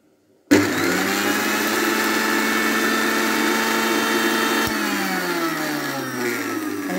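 A mixer grinder powders mustard seeds and spices for Andhra-style tomato pickle, its loud, steady motor whine starting abruptly after a brief silence and running continuously, the pitch sagging slightly near the end.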